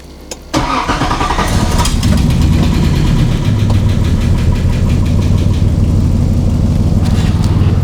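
A 1986 Nissan 300ZX engine cranks and catches after a brief quiet moment, then settles into a loud, steady idle heard up close, with no talking.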